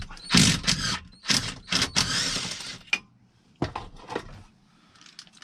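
Ratcheting wrench loosening nuts under the dash of a 2003 Dodge Ram: several short bursts of clicking ratchet strokes, close and crisp, separated by brief pauses, with no talking.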